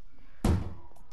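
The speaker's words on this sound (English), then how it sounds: "Rescue Paddle sounds like this." A Rescue Paddle item in Fortnite makes a single loud, dull thunk like a heavy slam, with a short decaying tail over a quiet background.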